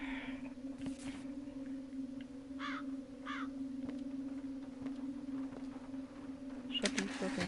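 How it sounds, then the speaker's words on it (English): Crows caw in a few short bursts at mid distance, set against a steady low indoor hum, with a louder call near the end. "shut these fucking crows out."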